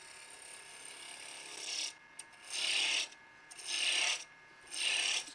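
A Christmas tree ornament being shaped into a cone on a wood lathe with a spindle roughing gouge, three loud scraping cuts with quieter spinning hum between them.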